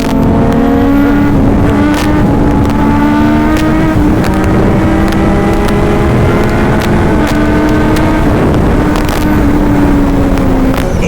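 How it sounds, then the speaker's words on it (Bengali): Two Kawasaki Z900 motorcycles race side by side, their engines screaming loud and close with rising and falling revs and gear changes throughout. "এখানে C900 ভার্সেস C900 রেস হয়ে গেল"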